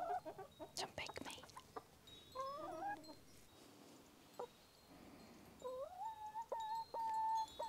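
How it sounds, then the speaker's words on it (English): Chickens cluck and squawk close by on a farm in Central Portugal, with irregular sharp calls and a few longer tonal cries across the stretch. "Chickies!"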